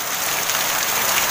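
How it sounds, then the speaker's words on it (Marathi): Heavy Konkan monsoon rain pours down steadily, a dense continuous hiss of drops on surfaces, close and loud throughout with no voices. "किती मुसळधार पाऊस पडतोय बघा."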